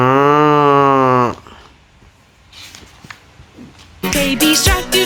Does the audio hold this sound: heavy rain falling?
no